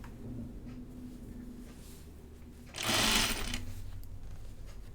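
A sewing machine hums steadily at close range while stitching, with a brief louder, faster burst of running partway through before it settles back to a softer whir.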